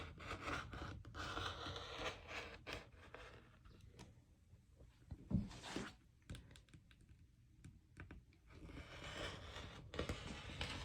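Fabric being cut into bias strips along a ruler: close, dry scratchy scraping and rustling strokes in uneven bursts, with a few sharper clicks and pauses, no voices.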